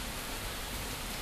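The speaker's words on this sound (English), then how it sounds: "Oh, perfect. It's raining." Steady, dense rain falls in a cold, wet outdoor setting, a continuous hiss with no breaks and no voices, filling the whole short stretch at an even level.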